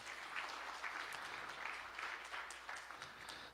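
An audience at a Nazarene University graduation ceremony applauds a graduate, giving steady, even clapping from a large hall that continues throughout at a moderate distance and fairly low level.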